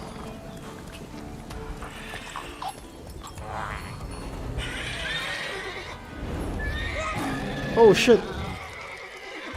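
Roach, the horse in The Witcher 3, whinnies loudly near the end over steady clip-clopping hooves, with a voice speaking briefly along the way.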